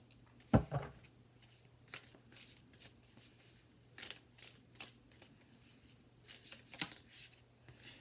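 Tarot cards being shuffled in quiet short bursts, soft papery riffles and slaps scattered across the stretch, with one sharper clack near the start and a low steady hum underneath.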